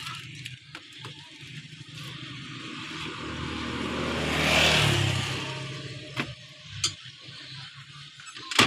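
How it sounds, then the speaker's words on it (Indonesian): Ice block shaved by hand for Indonesian es campur, a rough grating swell that builds and fades in the middle, amid street-stall background noise and occasional knocks. "Parut es ya."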